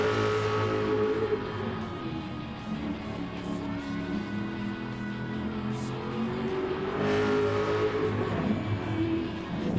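A Group C race car engine in a racing video game drones steadily at high revs for about ten seconds, loud and continuous, with small shifts in pitch as the car is driven.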